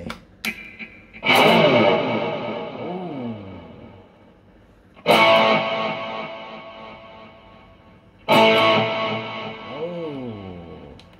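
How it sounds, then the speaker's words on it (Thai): Three heavily distorted, crunchy chords through a distortion effect on a Century CLP-304, each struck hard and left to ring out and fade, with a gritty, overdriven tone. "เสียงแตกดูบ้างนะครับว่าเป็นยังไง"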